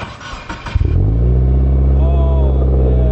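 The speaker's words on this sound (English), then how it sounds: "You want to get an exhaust clip of my really loud exhaust?" A car's loud exhaust revs up after a few thumps and handling noises, then holds a deep, steady droning rumble close by that rises slightly in pitch.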